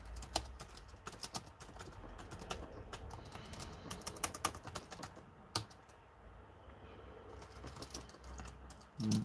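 Rapid, irregular clatter of keys on a computer keyboard, typed in quick bursts with short pauses, fairly close and moderately loud.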